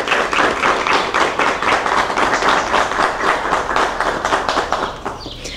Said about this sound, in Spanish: ese aplauso que le acabamos de dar a Milena